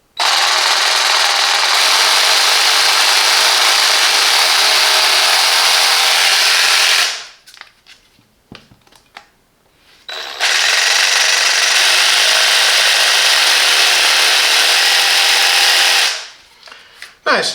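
Parkside 20V cordless jigsaw (PSTDA 20-Li C3) running free in the air, two long loud steady whining bursts of about seven and six seconds split by a short quiet pause, with a brief start at the very end.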